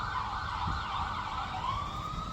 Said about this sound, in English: Sorry about this ambulance, guys.